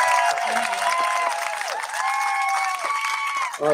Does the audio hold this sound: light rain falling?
no